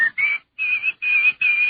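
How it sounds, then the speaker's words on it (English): A man whistles a short, bright tune in an old-time radio drama, five sustained clear notes with a brief gap after the second, close and alone with no talking. "was whistling as he cleaned the last papers off his desk at the end of the day"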